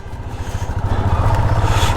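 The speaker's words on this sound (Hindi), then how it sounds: "ऐसे ऐसे निकलवाना पड़ रहा है भाई बाइकों को" Motorcycles on a rough mountain trek road between Jyolingkong and Gunji, revving and idling as they are maneuvered through, a steady close low engine rumble with clattering and scraping throughout.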